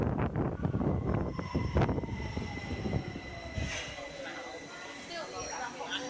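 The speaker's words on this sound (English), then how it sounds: "The train comes in from this direction." A London Underground train rumbles into Euston station, its roar fading to a steady whine and squeal as it slows, with faint voices nearby.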